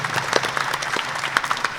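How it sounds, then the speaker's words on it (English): Brief applause from a small audience at a local candidates' forum, scattered uneven claps lasting under two seconds with no talking over it. "let's give her a round of applause"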